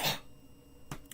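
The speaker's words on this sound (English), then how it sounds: "Oh, of all the days to develop a cough" A host of a live NHL Stanley Cup Final stream lets out a sharp cough or throat clear, close to the microphone, followed by a second brief one just before the end, in an otherwise quiet room.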